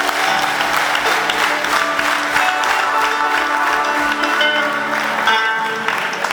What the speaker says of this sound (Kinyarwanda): tugakomera Imana amashyi nk'abanyarwanda